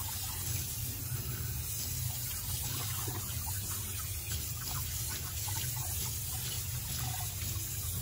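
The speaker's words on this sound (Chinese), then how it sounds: "再用清水冲洗干净，主要是把浮沫、血沫清洗干净。" Blanched pork stomach rinsed under a running tap, a steady soft stream of water splashing and trickling in a sink, faint and continuous throughout.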